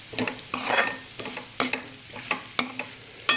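Bitter gourd (karela) pieces stirred over low heat in a pan, with a soft sizzle under repeated scraping and clattering strokes of a spatula, several close-up bursts in uneven rhythm.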